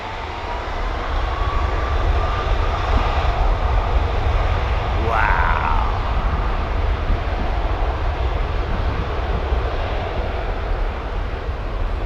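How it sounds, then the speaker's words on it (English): Airliner engines roar through a departure at London Heathrow, a steady broad drone that holds loud across the whole stretch, with a rising whine sweeping briefly midway and no talking over it. "Now you can hear those engines humming away"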